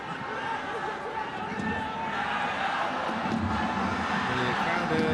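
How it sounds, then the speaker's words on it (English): Football stadium crowd at a DPR Korea versus China East Asian Cup match, a steady roar of cheering and chatter that swells slightly midway and holds dense and continuous throughout. "The crowd are well behind the Chinese here, as you would expect."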